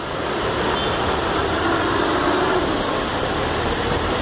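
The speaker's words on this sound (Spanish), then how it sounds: "Los carros pasando con precaución para que no queden varados." Cars creep through a flooded avenue in Ibagué after a downpour, giving a steady engine drone mixed with a broad wash of water and traffic noise, continuous and moderately loud.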